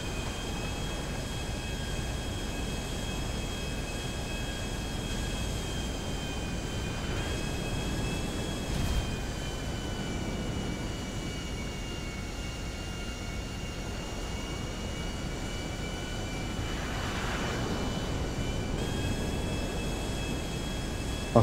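A plane engine in GTA V gives a steady, loud drone with a high whine on top, holding nearly constant for about twenty seconds with slight swells and no talk.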